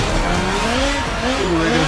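A Nissan GTR in Forza Motorsport 7 on the Nurburgring squeals its tires as the back end slides out, a loud continuous screech over steady engine roar.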